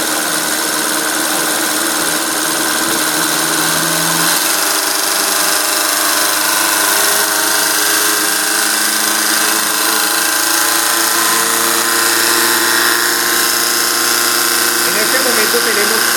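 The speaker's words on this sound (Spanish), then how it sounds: "vamos a incrementar otros 10 hercios en la frecuencia del variador" Motor on a test rig, driven by a variable frequency drive, runs as the drive frequency is raised 10 Hz; steady loud mechanical hum and drone with tonal whine that shifts pitch partway through, continuous and close, no talk over it.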